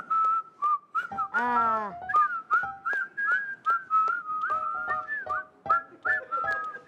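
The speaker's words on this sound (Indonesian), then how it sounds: "Coba emang siul yang benar gimana?" A person whistles on an Indonesian comedy show, producing a quick, uneven run of short chirping notes and trills with one rapid sliding flourish, close and clear, with a brief spoken interjection.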